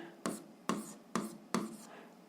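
Writing out an algebra expression by hand produces four soft, evenly spaced tapping strokes, quiet and close, each fading quickly into a faint background hush.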